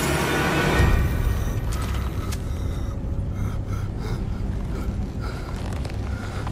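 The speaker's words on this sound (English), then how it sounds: "Kratos breathing mad hard" Kratos from the God of War video game breathes heavily, with loud ragged gasps and snorting exhalations over a low mechanical rumble, the breaths strongest at the start and then trailing into steadier panting.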